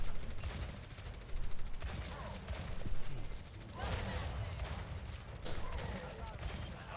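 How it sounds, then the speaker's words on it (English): Ashe's rifle shots in the video game Overwatch: repeated sharp gunfire bursts mixed into dense, busy match noise, with a voice talking over it. "Good target priority, shooting at the Mercy instead of the Orisa"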